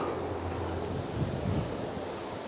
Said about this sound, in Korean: 아, 바람 시원하죠?